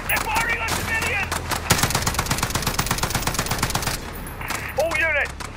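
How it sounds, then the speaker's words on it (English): Full-auto FAL rifle fire in the Modern Warfare video game campaign, a long rapid burst of sharp shots loud and close, with shouted radio chatter overlapping at the start and end. "They're firing on civilians!"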